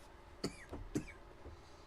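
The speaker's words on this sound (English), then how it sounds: "smoke it till we cough" Three sharp coughs after smoking a joint, close and fairly loud, the first and third strongest, followed by a softer throat sound and quiet breathing.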